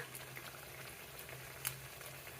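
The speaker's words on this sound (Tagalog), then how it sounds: "Di-deep-fried natin siya." A chicken patty deep-frying in hot oil gives a quiet, steady crackle and bubbling hiss, with a low hum running underneath and one brief sharper pop partway through.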